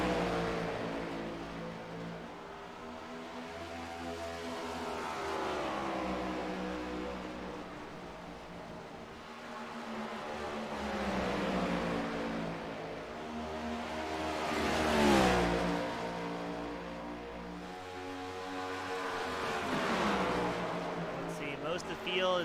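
Stock cars in a PC Cup Series race at Dover International roar by in a long, wavering engine drone that rises and falls as they circle, while a commentator talks steadily over the noise.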